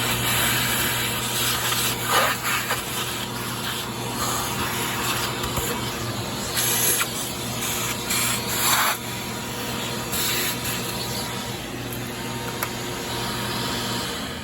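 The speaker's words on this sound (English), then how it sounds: "Turn the vacuum back on, suck all this junk up" A shop vacuum roars steadily, sucking up loose drilling chips with faint rattles and scrapes throughout. No one speaks.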